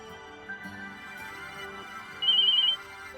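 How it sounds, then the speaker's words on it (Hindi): Phone ringtone playing late at night, a steady tonal melody that runs throughout and swells louder with a higher trill near the end, close by with no talk. "इतनी रात को किसका फोन है?"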